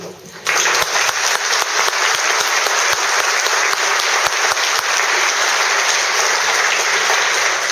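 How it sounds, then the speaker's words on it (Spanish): A crowd at a commemorative Galician cultural event bursts into applause after a folk dance performance, starting abruptly and holding as a loud, dense, sustained wall of clapping with a few sharper individual claps. "se ha merecido un buen aplauso. Yo creo que le vamos a dar otro más, ¿no?"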